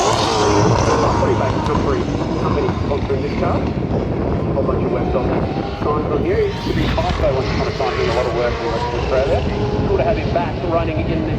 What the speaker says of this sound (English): It was a 12-hour flight in that little plane and actually took off from the track